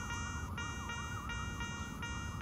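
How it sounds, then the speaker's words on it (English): Distant emergency sirens wail in a rising and falling pattern, faint and continuous beneath steady low outdoor rumble during metal detecting. "Apologies for the sirens in the background"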